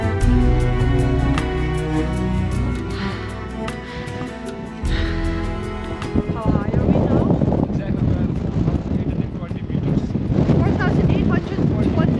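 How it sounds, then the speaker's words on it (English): Strong mountain wind on the trek to Everest Base Camp buffets the microphone in loud, roaring gusts that swell and drop, with a voice speaking over the noise. "A little bit windy."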